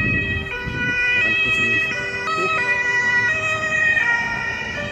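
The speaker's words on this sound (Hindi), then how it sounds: "एम्बुलेंस आ रहा है," An ambulance siren wails loud and close on a road during a holiday in Poland, its tones stepping up and down in a repeating pattern, with a vehicle's hum underneath.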